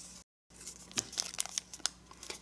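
Paper being creased and pressed flat while folding an origami dragon, giving a run of short, close crinkling and crisp snapping sounds after a brief silent gap.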